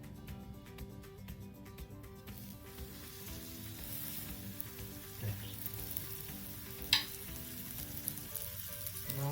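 Silver biddy fish fry in hot oil Malvani style, a loud, dense, steady sizzle up close with occasional small pops and a brief clink.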